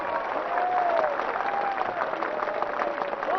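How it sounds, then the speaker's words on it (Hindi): Sustained applause from a large audience at a political rally in Assam, dense steady clapping filling the space from start to finish with a faint crowd murmur beneath. "मैं चाहता हूं कि आप खड़े होकर एक बार फिर ताली बजाएं"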